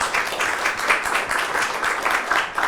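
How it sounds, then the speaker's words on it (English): Steady applause from an audience at a Caelestinus kickoff meeting for the project manager, moderately distant dense clapping without a break. "I think he deserves a big clap first"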